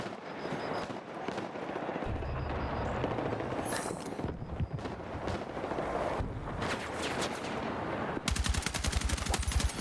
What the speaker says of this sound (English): I'm shooting from miles away. Tap fire